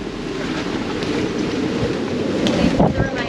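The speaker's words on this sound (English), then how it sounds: "Wave action in a small anchorage." Waves slosh and slap around a boat riding at anchor in a small anchorage during a strong blow, a steady rushing wash with wind noise, swelling slightly toward the end.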